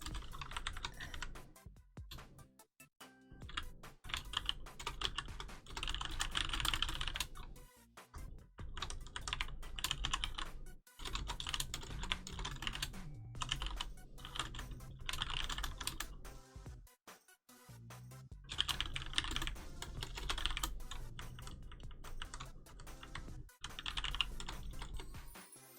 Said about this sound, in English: I'm not just tippy typing nothing.